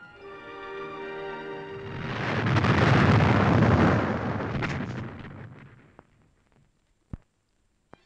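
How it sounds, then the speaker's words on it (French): First round of mine blasts for railway tunnel works in Monaco: a deep, rumbling detonation swells and rolls for several seconds before fading, followed by a few sharp isolated cracks in near silence. "en actionnant un détonateur, a déclenché la première volée de mines"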